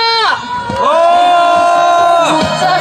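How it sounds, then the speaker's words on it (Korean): A crowd at a political campaign rally for a city council candidate in Cheongju shouts and cheers loudly. Sustained whoops and voices rise together, dip briefly, then swell again. "함성과 환호 부탁드립니다."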